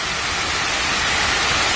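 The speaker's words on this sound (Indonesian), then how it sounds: "Ini air terjun keren sekali, men." Jembong waterfall in Buleleng, Bali, roars as a steady broadband rush of falling water, close and continuous with no voices.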